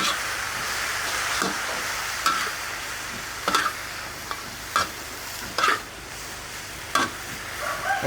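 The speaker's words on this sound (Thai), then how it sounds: "ผัดเลยค่ะ ผสมคลุกเคล้ากันค่ะ ใช้ไฟแรงนะคะ" Kanjong vegetables sizzle while being stir-fried over high heat, a steady frying hiss broken by sharp clinks and scrapes of a spatula against the pan at irregular intervals.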